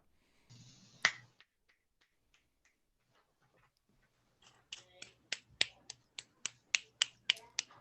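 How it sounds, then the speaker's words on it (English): Fingers snap repeatedly, one sharp snap first and then a steady run of about ten crisp snaps at a regular rhythm, close and clear. "Snap your fingers."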